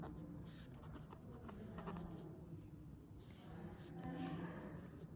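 Writing on paper or a board during a geometry lesson: faint, continuous scratching strokes of a pen or marker run under a steady background murmur, quiet and close throughout.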